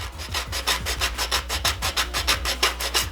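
Steady back-and-forth rasping strokes of sandpaper wrapped on a PVC pipe scraping over a wood edge, about a dozen even passes in a quick, regular rhythm, close and fairly loud.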